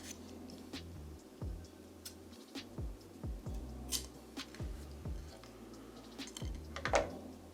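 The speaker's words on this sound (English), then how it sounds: "First thing we want to do is cut the straw" Scissors snip a plastic straw into short, equal inch-long pieces, giving a string of crisp close clicks and cuts in an irregular rhythm, with no talking.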